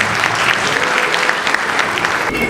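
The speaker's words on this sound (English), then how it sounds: "Let's give that a round of applause" Steady applause from an awards ceremony crowd fills the whole stretch, dense and even clapping at a consistent loudness.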